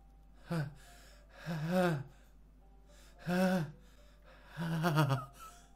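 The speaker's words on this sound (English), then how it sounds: "It sounds like breathing. A sharp inhale, like someone is sucking the air through their teeth." Four sharp, breathy inhales drawn through the teeth, each a short hissing gasp with a strained vocal edge, spaced apart over a low steady hum in a Doki Doki Literature Club game scene.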